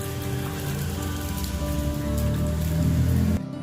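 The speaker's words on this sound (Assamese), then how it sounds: "আজিও গোটেই দিনটোত বৰষুণেই দি আছে।" Steady rain pours onto a surface, a dense hiss of drops that continues evenly, then cuts off abruptly at the end.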